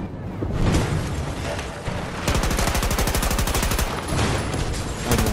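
Rapid automatic gunfire in Battlefield 2042 rattles close and loud, a dense stream of shots with a short pause and a sustained burst of fast, evenly spaced rounds continuing to the end.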